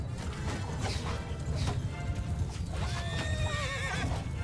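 Horse neighs and clip-clopping hooves in a medieval battle in Mount & Blade II: Bannerlord with a Game of Thrones mod; a steady hoof rhythm under battle noise, with a clear whinny rising near the end.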